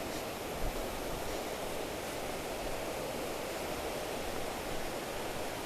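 River water flows steadily at night in a rural village, a continuous broad rushing hiss at constant volume, close and unbroken, with no voices.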